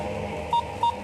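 A telephone line rings out with no one picking up. Two short electronic tones pulse at a moderate level over a background hum.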